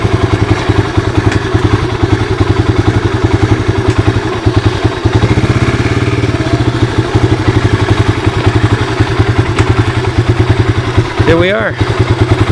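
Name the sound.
1985 Honda ATC 250SX three-wheeler engine idling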